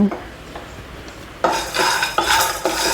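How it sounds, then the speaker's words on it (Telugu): Peanuts and coriander seeds roast in a dry pan, with a spoon scraping and clattering against the metal, quiet at first and then louder bursts of stirring. "ఈ పల్లీలని దోరగా వేయించుకుందాం పసుపులు ధనియాలు వేసుకుందాం అండి వీటిని కూడా దోరగా వేయించుకోవాలి"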